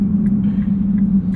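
A 2023 Nissan GT-R Premium rolls along with a steady, loud low road roar and tire hum, a continuous drone without breaks and without any voices.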